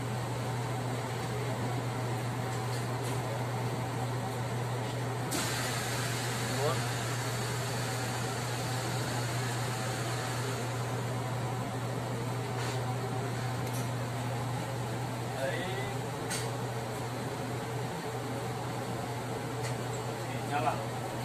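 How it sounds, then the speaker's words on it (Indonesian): A cruise ship laundry machine running steadily after being switched back on, a constant mechanical hum with a strong low drone, fairly loud and continuous throughout, with occasional faint clicks and background noises. "Baik, kita nyalakan lagi mesinnya."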